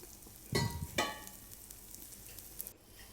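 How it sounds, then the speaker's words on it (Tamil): Mutton kari dosa frying in oil on a griddle, Madurai street-food style, gives a soft steady sizzle with two louder bursts of crackle early on, then settles into a faint hiss until it cuts off. "சுற்றிலும் எண்ணெயை விட்டு நம்ம மூடி வச்சுக்கலாம் தோசை கொஞ்சம் நல்லா வேகட்டும்"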